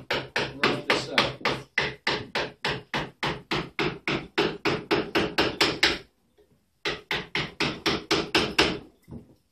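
Steady rapid series of mallet blows on a carving chisel cutting wood while carving a ball-and-claw foot, about two dozen close, loud knocks, a brief pause, then another run of strikes.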